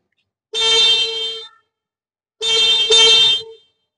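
Horn of a 2025 Honda Rebel 500 motorcycle sounded twice, two loud steady toots of about a second each separated by a short pause, close and clear with nothing else around.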